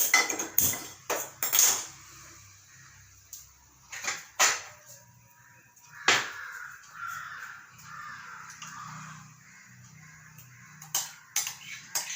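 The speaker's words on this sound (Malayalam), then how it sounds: "ഇനി നമുക്ക് പാൻ വെച്ച് ഇതിനെ ഒന്നുകൂടെ ചൂടാക്കണം" Metal pan set down on a stove for reheating homemade tomato sauce in a home kitchen, giving several sharp clanks and scrapes at close range, with crows cawing in the background.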